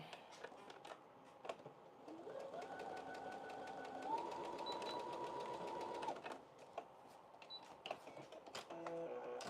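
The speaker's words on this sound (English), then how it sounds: "Let me just sew this back up." A sewing machine stitches a skirt seam, its motor running in a steady whirring burst of about four seconds, moderately loud against a quiet room with faint clicks and handling noise before and after.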